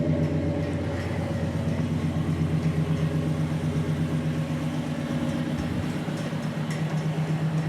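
An original 1967 Chevrolet Impala Super Sport with a big block 396 V8 idles with a deep, steady, even rumble, close by and continuous, with no talking over it.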